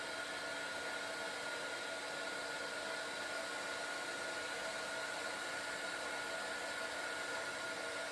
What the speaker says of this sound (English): I love doing heat embossing.